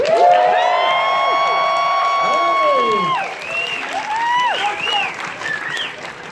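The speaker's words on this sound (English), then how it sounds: "Please make some noise for Zachary Levi." A crowd bursts into applause with cheers and whoops, loud at first, then settling into steadier clapping and scattered shouts.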